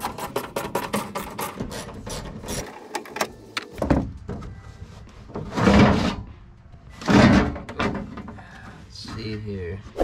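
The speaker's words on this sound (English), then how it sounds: "let's head over to the toolbox and see what kind of torque bits we can find" Metal toolbox drawers slide and clatter in a garage while someone hunts for Torx bits to fix a Ford Ranger tailgate handle, with sharp clicks and rattles up front, then scraping bursts; a voice talks at times between the noises.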